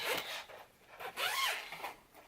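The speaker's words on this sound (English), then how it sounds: "and it has a zip." A zipper on a dry-cleaner-style garment bag holding a 20-inch silky-textured wig slides open in several quick rasping pulls, close and fairly loud, with no talking.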